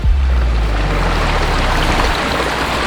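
Fast, forceful river water rushing loudly and steadily up close, a continuous broadband roar with heavy low-end turbulence, at a gold-panning spot.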